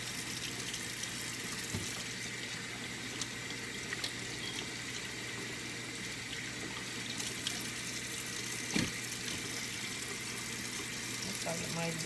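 A kitchen tap runs steadily while raw chicken is washed in the sink, a constant close rush of water over twelve seconds with occasional small knocks and splashes.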